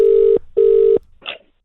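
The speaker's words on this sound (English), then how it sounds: "Well, it's ringing." A telephone on an outgoing call rings twice as long, even steady tones with a short gap between them, loud and close, followed by a faint click or rustle.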